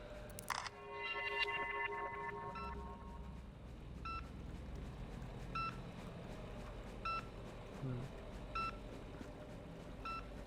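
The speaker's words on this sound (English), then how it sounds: "What's that beeping?" A gas detector in the video game INFRA beeps repeatedly at evenly spaced intervals, short faint electronic tones over a low background hum, following an initial burst of louder tones.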